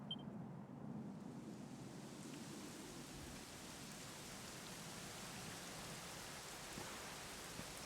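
Steady rain in the video game Dragon Quest XI, a constant even hiss of falling drops on surfaces that continues throughout without pause, with a low rumbling undertone and no other distinct sounds.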